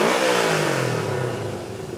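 Honda CB360 motorcycle engine revving close by, a loud blip whose pitch falls back toward idle over two seconds.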